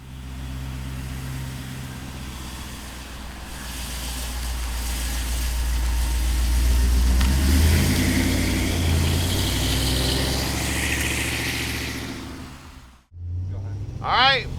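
A 1955 Chevrolet Bel Air with an LS engine runs steadily nearby, a deep rumbling idle that swells slightly in the middle before cutting off, followed by a brief voice.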